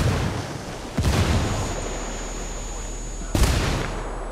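A frag grenade goes off in the tactical shooter Ghost Recon Breakpoint with a loud, broad boom near the start, a rumbling tail, then a second blast a couple of seconds later over steady game noise.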